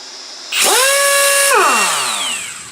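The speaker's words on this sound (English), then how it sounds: "this is the Ryobi Air Strike 18 gauge nailer" A cordless Ryobi Air Strike 18 gauge battery nailer cycles and fires once, a loud, sustained whirring surge lasting about a second that winds down as its pitch falls, heard up close with no talking.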